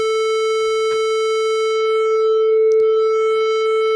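A steady, loud FM synth tone with tube-amp-style distortion, a buzzy, harmonic-rich edge over a sine wave, holds unchanged, with a few faint clicks along the way.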